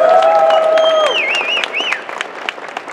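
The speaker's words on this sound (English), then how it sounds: "Can we give our cosplayers a huge round of applause?" Anime convention crowd in New York applauds cosplayers, with a burst of clapping and cheering that fades toward the end, overlaid by high whistles and shouts from the audience.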